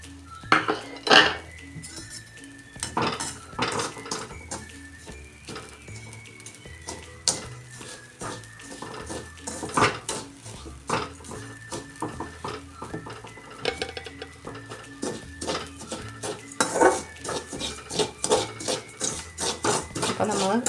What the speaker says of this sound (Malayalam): അപ്പോൾ നമ്മൾ അരി കല്ലച്ച് പോകാതെ വറുത്തെടുക്കണം കേട്ടോ.